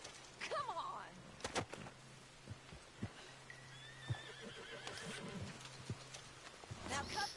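A horse in Red Dead Redemption 2 whinnies and hooves clip-clop in uneven bursts, with intermittent talk and scattered game-like effects over a low steady hum.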